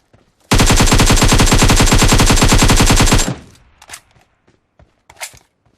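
A long, loud burst of rapid automatic gunfire in the mobile game Battlegrounds Mobile India, sustained for about three seconds and then cut off, followed by a few faint thuds and footstep-like sounds.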